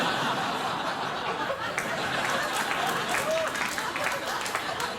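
Studio audience on a late-night talk show applauding steadily with scattered laughter, a dense, sustained wash of clapping throughout.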